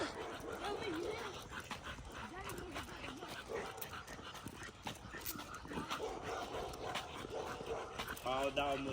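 A stray dog and an American Pit Bull bark and yelp in a tense kennel scuffle, with repeated close, loud barks and whimpers running under agitated human talk throughout.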